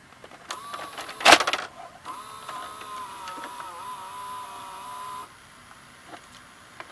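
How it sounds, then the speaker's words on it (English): The loading motor of an Orion VR0120 VCR runs, driving the cassette carriage gear with a steady whirring hum after a sharp mechanical clack, then stopping with a soft click. "Not only the cassette carriage drives that, but the loading motor does drive that gear"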